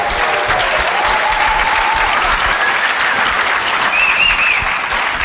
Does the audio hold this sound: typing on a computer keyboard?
no